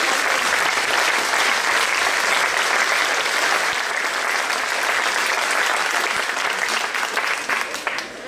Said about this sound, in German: Auch das ist ein Applaus wert.